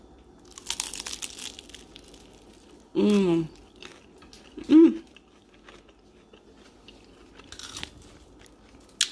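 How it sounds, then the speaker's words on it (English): Crisp crunching of a vegan Trader Joe's snack being bitten and chewed close to the mic, two loud bursts of crunch separated by pauses, with a person humming appreciatively in between. "Listen to the crunch."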